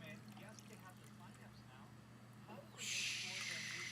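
Liquid pours in a short, fairly loud splashing burst near the end after a quiet stretch of low hum and faint talk, with small drips just before.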